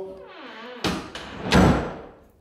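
A door swinging shut with a soft thud, followed by a small click as the latch seats into the strike plate and a final firmer thump, all close and with no talk.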